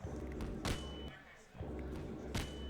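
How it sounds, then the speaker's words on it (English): Barrels exploding in the Half-Life 2 video game, heard as two heavy booming thuds about 1.7 seconds apart over a continuous dense game background of ambient noise and rumble. "So we're going to shoot this barrel twice, and we're going to explode."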